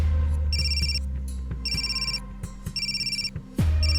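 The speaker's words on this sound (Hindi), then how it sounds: "सर उसी बेवड़े का फोन है।" A phone ringtone chirps in repeated electronic bursts, ringing several times in a row over a low background hum, with no one speaking.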